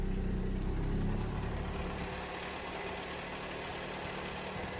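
A Toyota Yaris engine, its immobilizer fault repaired, idles with a steady low rumble, close by, the level dipping slightly after the first second, with no one speaking.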